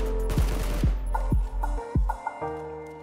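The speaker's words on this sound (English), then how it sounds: "only fire 6 bullets at a time, let the weapon rest for a brief moment and then fire again." SCAR-L assault rifle in the video game PUBG firing short controlled bursts, rapid sharp shots in clusters separated by brief pauses, loud and close with no speech.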